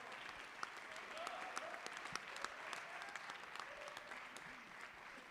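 An audience at a panel event breaks into steady applause, a dense patter of many hands clapping at moderate distance, holding even for about five seconds.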